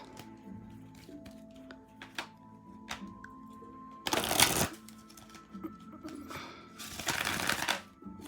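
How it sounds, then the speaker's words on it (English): Oracle cards are shuffled in quick riffling bursts with soft taps and clicks between them, close and fairly quiet, with no talking. "I'm going to shuffle them."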